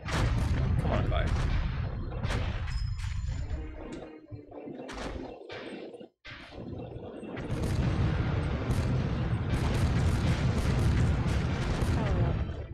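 Tank cannons in the N64 game BattleTanx fire in a dense run of loud booming blasts with rumbling explosions, broken by a brief lull before the barrage resumes, while someone talks over the action.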